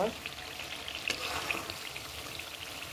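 Bhetki fish being sautéed in a pan, a soft steady frying crackle with occasional small pops and utensil clinks, fairly faint and without talk.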